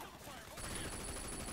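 Video game machine gun fire from Sleeping Dogs breaks out as a rapid, dense burst of shots, starting quiet and turning louder midway, then continuing steadily to the end.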